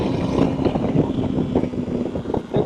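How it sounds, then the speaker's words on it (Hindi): KTM Duke 390 motorcycle, a 2025 model, revving in low gear with a steady, loud engine drone and wind buffeting on the microphone throughout, pulsing slightly as the throttle rises and falls. "चलो भाई मैं आपको थोड़ा लो गियर पे खींच के दिखाता हूँ"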